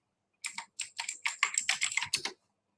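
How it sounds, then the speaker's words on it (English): Mechanical keyboard keys clatter in a quick burst of about a dozen crisp, close keystrokes, heard alone in a quiet room. "Yes, you can hear my mechanical keyboard."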